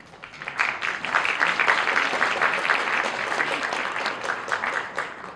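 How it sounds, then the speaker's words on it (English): An audience at a Korean women's association's 20th anniversary charity gala applauds as the Consul General comes to the stage, with steady, dense clapping that swells in quickly and holds for several seconds. "Please welcome the Consul General with applause."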